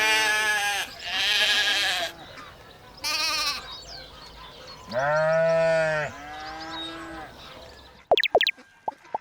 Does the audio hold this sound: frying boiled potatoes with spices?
no